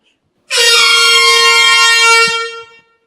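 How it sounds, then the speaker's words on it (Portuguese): A truck air horn blasts once, loud and close, a single sustained rich tone held for about two seconds before tapering off, heard alone without talk. "Toda vez que você lembrar de uma buzina de um caminhão"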